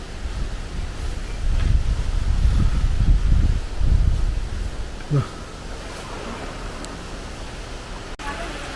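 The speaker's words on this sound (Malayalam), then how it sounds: "മഴ വരുന്ന കാറ്റ് കണ്ടില്ലേ" Strong gusts of wind before rain roar and buffet the microphone in heavy waves, then ease into a softer, steady rush.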